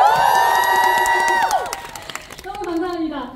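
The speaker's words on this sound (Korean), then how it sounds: "CGV 박수 한번 주세요!" A cinema audience at a stage greeting cheers with high shouts and whoops, then scattered clapping rings out as the excited voices fade and rise again.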